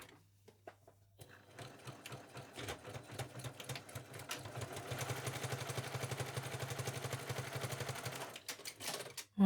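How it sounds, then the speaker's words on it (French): A sewing machine runs a straight stitch along corduroy for a child's backpack, starting after a few faint clicks and settling into a fast, steady, close whir for several seconds before stopping. "Et on coud au point droit."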